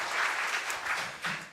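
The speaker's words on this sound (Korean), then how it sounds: "박수 한번 보내주시죠." Brief audience applause at a parliamentary policy seminar on plasma power generation, a short burst of crowd clapping heard at moderate volume.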